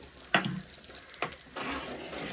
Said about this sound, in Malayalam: രണ്ടും കൂടി ഇട്ട് കഴിഞ്ഞാൽ താളിക്കൽ പെട്ടെന്ന് തന്നെ ആവും